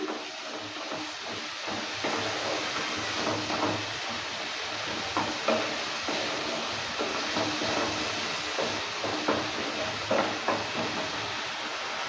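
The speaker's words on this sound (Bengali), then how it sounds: "জলটা দেওয়ার পর ভালো করে আবারও নেড়ে চেড়ে নিচ্ছে" Spice masala loosened with a splash of water and stirred in a pan while making a Bengali shingi fish curry, a continuous hissing simmer with soft scraping and occasional knocks of the spatula, close and steady with no talking.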